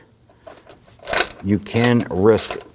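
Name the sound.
ratchet tightening bolts on a Ford Taurus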